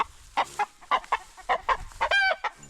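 A homestead chicken clucks in a rapid series of short, close calls, ending in a brief rising squawk, with faint background sound between them.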